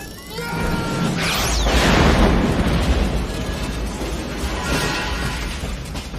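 Grenade explosion, a loud booming blast that swells into a rolling roar and sustained crackling rumble lasting several seconds, close and dominant, with no voices over it.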